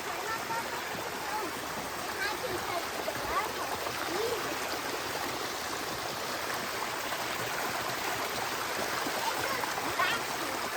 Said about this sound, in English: Wow, that's a beautiful waterfall.